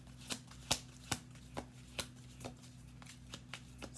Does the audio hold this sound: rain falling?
no